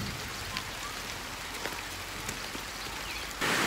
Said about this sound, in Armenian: այս հենց ուժեղ անձրևը վրայա կալել